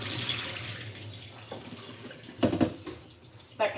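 Tap water runs steadily over an onion being washed for a salad, with louder splashes and handling noises near the end as the onion is moved under the stream.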